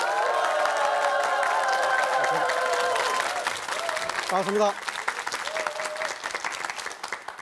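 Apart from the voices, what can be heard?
audience applause welcoming speaker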